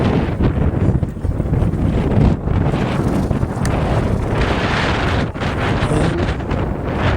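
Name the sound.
wind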